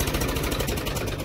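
A 2018 Massey Ferguson 1035 tractor engine runs steadily at close range, a continuous low rumble with no talk over it.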